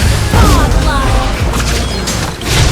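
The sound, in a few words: turret being destroyed in Mobile Legends video game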